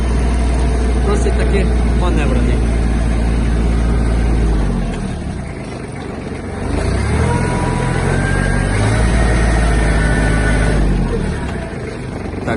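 A Kubota GB-18 Japanese mini tractor's engine runs loud and steady the whole time, easing slightly midway before building again, with someone talking over the mechanical drone.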